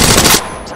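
An R99 submachine gun in the Apex Legends video game fires one short, loud, rapid automatic burst up close, then cuts off into a quieter tail.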